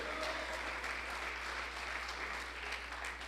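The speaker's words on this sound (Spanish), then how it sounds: "Dele ese aplauso a Dios en esta hora" A church congregation applauding during a service, a continuous, even patter of many hands heard from a moderate distance, with a low steady hum beneath and no speech.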